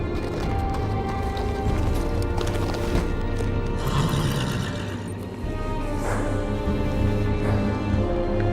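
Horse hooves clip-clop steadily in a Game of Thrones video game scene at the Wall, close and continuous over a droning wintry ambience, with an occasional whinny and no speech.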